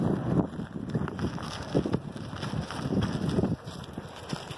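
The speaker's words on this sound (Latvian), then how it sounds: "Pūš pretī tāds vidējs spēcīgs katabātiskais vējš" A strong katabatic headwind blows across a glacier, a steady rough roar with gusty surges buffeting the microphone, and no voices.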